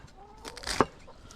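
A brooding hen gives a short clucking call near the end of a quiet backyard garden moment, faint and brief, with a couple of softer sounds before it.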